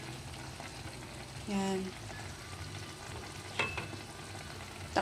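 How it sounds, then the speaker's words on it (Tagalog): A hard-boiled egg frying in a pan of Filipino pork adobo gives a soft, steady sizzle, broken by brief louder crackles and scrapes as it is turned, with a short spoken word at the end. "Baliktarin natin yung egg para magkakulay."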